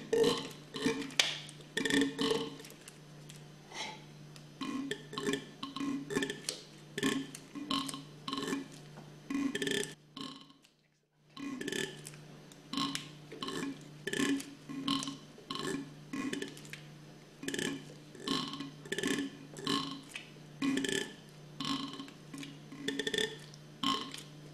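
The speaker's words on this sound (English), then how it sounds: "That sound is the valves working." Valves inside a Hypro diaphragm pump clack in a steady, rapid rhythm close by, with a low pump hum underneath and a brief pause partway through.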